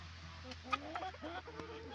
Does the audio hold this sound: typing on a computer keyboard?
no